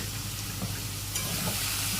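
Turmeric and shahi paneer masala stirred into a sizzling pan for matar paneer: a steady close frying hiss with soft scraping strokes of the spoon, and no talking.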